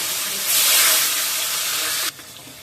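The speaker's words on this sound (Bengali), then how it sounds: "কালো জিরাটা ফুটা লাগবে" A steady loud sizzle of nigella seeds hitting hot oil for tempering, swelling briefly then cutting off abruptly to a quieter hiss near the end.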